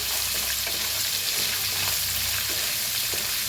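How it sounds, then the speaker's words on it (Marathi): Onion and green chillies frying in a pan give a dense, continuous sizzle with faint stirring scrapes, steady and close throughout, no speech. "त्याच्यात टाकायचं आता कांदा आणि हिरव्या मिरच्या, भाजून घेऊया। छान असं भाजायचं।"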